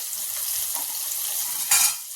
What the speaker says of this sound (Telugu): ఇది కలిసేలాగా కూరగాయ ముక్కలు కలుపుకోవాలి